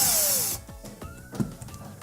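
A cordless power driver whirs briefly, backing out a 1/4-inch screw from the water inlet valve of a GE refrigerator, its motor pitch winding down before it stops and gives way to small clicks and handling noises.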